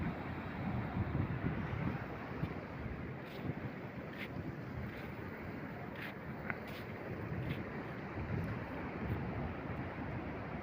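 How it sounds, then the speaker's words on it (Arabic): Sea waves wash against the shore at Mohammedia while wind buffets the microphone, a steady broadband roar at low level with faint scattered clicks. "هو البحر قدام."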